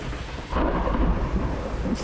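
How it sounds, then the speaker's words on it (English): Heavy rain hisses steadily while a deep roll of thunder rumbles in about halfway through and lingers loudly, with no voices present. "Oh, it's raining."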